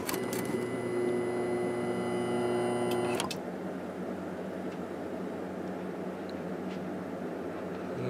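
An oiled fan motor in a Climatrol Fedders 8k BTU window air conditioner whirs steadily with a tonal hum, then cuts off after about three seconds and coasts down quietly under a faint room background.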